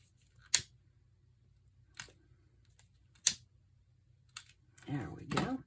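Scissors snip thread on a slow-stitched fabric journal cover: four sharp, close cuts spaced a second or so apart in a quiet room, followed by a brief stretch of soft speech.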